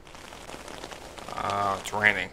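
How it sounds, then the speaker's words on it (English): Steady rain in a video game, the paranormal game Paranormal, patters on a surface throughout, with a brief voiced sound rising near the end. "Oh, it's raining."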